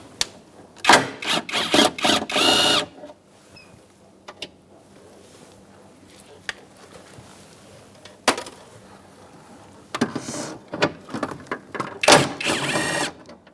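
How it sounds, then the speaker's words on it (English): A 10mm socket wrench ratchets in quick bursts while removing window regulator bolts inside a 2002-2006 Toyota Camry door, with close, loud clicking runs separated by quiet pauses and a few isolated taps. "Using a 10mm socket, I'm going to take those out now."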